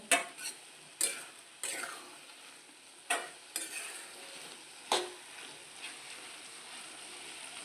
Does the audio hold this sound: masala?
yes